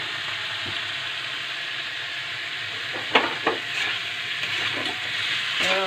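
Goat liver sautés in a pan for a Bengali dish, giving a steady, close sizzle throughout. A few scraping stirs break through around the middle, with a brief hiss near the end.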